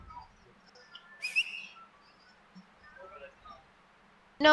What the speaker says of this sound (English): Who are you whistling to then?